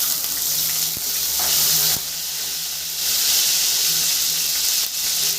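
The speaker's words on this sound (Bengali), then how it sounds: "এই তেলে আলুগুলো ভেজে নিব।" Potatoes frying in oil left over from frying fish, a loud steady hiss and sizzle with brief dips and faint clinks.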